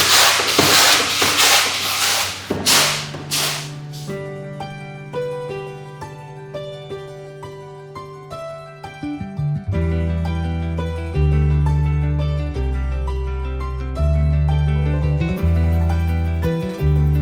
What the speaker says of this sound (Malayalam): പക്ഷെ എന്നാലും ഇവരൊന്ന് ചേറും, എന്തെങ്കിലും വല്ല പൊടിയും അതൊക്കെ ഉണ്ടെങ്കിൽ കളയാൻ വേണ്ടി.